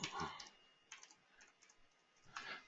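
Quick light clicks of typing on a computer keyboard, a short burst at the start and another near the end with sparse taps between, quiet and close, while someone sets up an electrical switchboard in design software.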